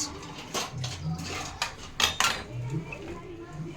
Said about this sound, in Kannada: ಆನಿಯನ್ಸ್ ಟೊಮೊಟೊ ಆ್ಯಂಡ್ ಕೊತ್ತಂಬರಿ ಮಿರ್ಚಿ ಎಲ್ಲ ಮಿಕ್ಸ್ ಮಾಡಬೇಕು